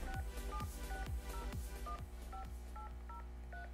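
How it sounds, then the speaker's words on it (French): An iPhone keypad sounds a series of about a dozen distinct dialing tones as a phone number is entered, each short beep clear and close with brief gaps between them. "On va entrer le numéro de téléphone."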